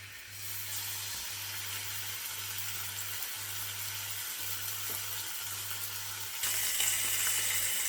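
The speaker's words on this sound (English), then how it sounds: "let's fry a couple of pieces up and see how they go" Home-made dry cure smoked back bacon frying in a pan, a steady close sizzle and hiss that runs throughout and grows a little louder near the end, with a low electrical hum underneath.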